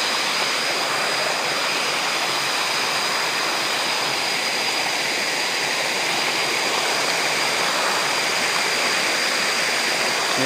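Water flowing steadily at the source feeding a hydraulic ram pump, a continuous broadband rush like a small stream or waterfall, close and even throughout with no voices.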